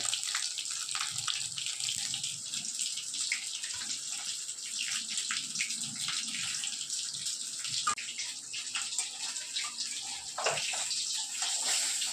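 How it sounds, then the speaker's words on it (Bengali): Steady sizzling and crackling of fish frying in hot oil, close by, with small pops scattered through a constant hiss. "এরকম মাছ ভাজছি"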